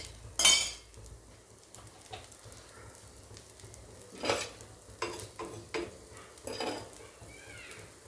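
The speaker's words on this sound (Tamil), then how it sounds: "இப்போ தான் தோசை ஊற்றணும், எண்ணெய் ஊற்றிச்சு." Dosa being made on an oiled pan: a sharp metallic clink, then scattered scraping and tapping of a ladle or spatula over a faint sizzle, fairly quiet and close, with no speech.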